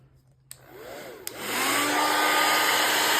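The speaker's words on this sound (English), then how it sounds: "What we're going to use is a simple old hairdryer." An old hairdryer switched on to heat the orange tip of an airsoft gun: two clicks, then a motor spinning up into a steady loud whooshing blow that holds to the end.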